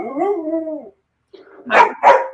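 A dog gives a drawn-out whining howl, then after a short pause lets out two sharp, loud barks close by, with no talk over them.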